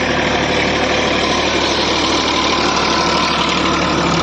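Massey Ferguson 245 DI tractor ploughing a field with a heavy plough, its diesel engine droning loud and steady with a rough, knocking throb that runs the whole time with no talk.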